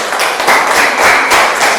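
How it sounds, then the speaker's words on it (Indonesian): A classroom of students applauds a presenting group, a dense, steady wash of many hands clapping together at close range for about two seconds. "Tepuk tangan buat kelompok 1."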